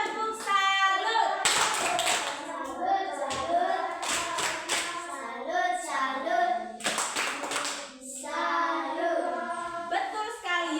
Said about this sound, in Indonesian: Tepuk salut untuk Bonfi.